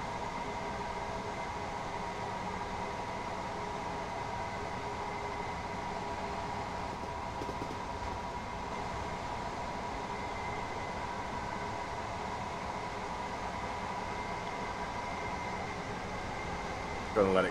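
A train coasting along the East Coastway in Train Sim World 2020, giving a steady, even rumble of wheels and cab noise with a faint hum and no clear engine surges throughout.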